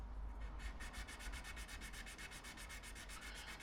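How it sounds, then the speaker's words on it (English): Steady rhythmic rasping of sandpaper rubbed back and forth over wood by hand, close and continuous, with regular strokes and no voices. "when you're doing any hand sanding with paper, get a mask on"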